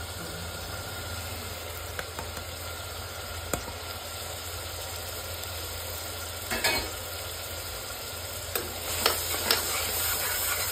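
Eggs frying with salt, turmeric and garam and biryani spices for an egg biryani, a steady soft sizzle with a few scattered clinks and scrapes near the end.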